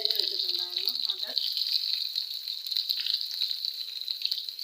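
Curry leaves, dried red chillies and chopped onion frying in hot oil for papaya curry, a steady hiss and sizzle running close throughout, with a brief spoken voice at the start.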